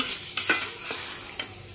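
Basa fish hits hot salted oil in a pan, with a steady sizzle of frying and a few sharp stirring or scraping clicks of a utensil, close and fairly loud with no voices.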